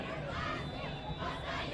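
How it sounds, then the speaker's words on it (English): A high school football crowd at Ben Lomond roars in a dense, continuous wash of cheering and shouting during a game against Evanston, loud and unbroken over the brief moment. "Listen to this Ben Lomond crowd."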